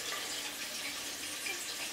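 Water poured into a simmering sauce while cooking stuffed flank steak, a steady broad wash of pouring liquid that runs evenly through the whole moment with no voices.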